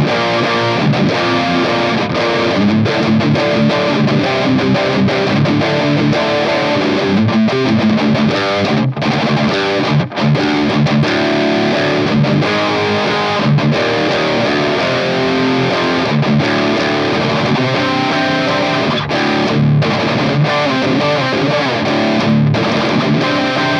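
A loud electric guitar through a DOD Supra Distortion pedal cranked all the way up, saturated and sustained, playing continuously with thick, fuzzy chords and no pauses.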